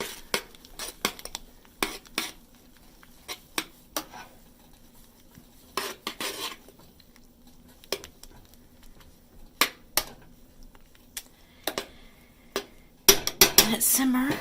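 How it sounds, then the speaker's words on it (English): A spoon stirs oats in a pot, scattered clinks and scrapes of metal against cookware at uneven intervals, close and fairly quiet. "stir it all up"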